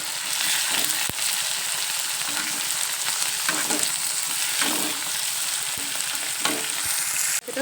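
Chopped vegetables and tomato fry in hot oil for North Karnataka-style vegetable upma made with rava, a continuous close sizzle broken by repeated scraping stirs and sharp utensil clicks.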